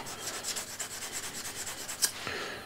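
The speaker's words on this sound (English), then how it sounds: "And now I have here 1200 grit hone, diamond hone, and hone up first the top, remove any remnants of the old burr" A metal scraper edge is honed on a 1200 grit diamond hone, with rapid, rhythmic close rasping strokes that continue evenly and end with one sharper scrape.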